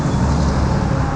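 Continuous low rumble of freeway traffic beside Seattle's Green Lake park, cars passing steadily nearby with a broad whooshing roar and no talking.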